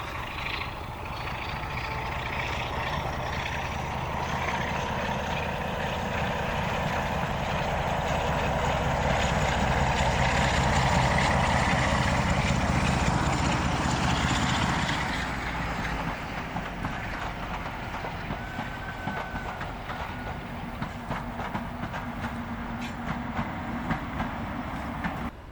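A Class 50 diesel locomotive, 47712, hauling a train draws closer on the Severn Valley Railway near Foley Park Tunnel, its engine roar and rumbling wheels building to a loud peak, then settling as it passes.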